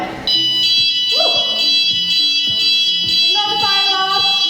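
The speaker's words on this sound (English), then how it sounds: "Ignore the fire alarm." A fire alarm rings through an exercise class over background music, its high-pitched electronic tone sustained and loud throughout while beats and musical notes continue underneath.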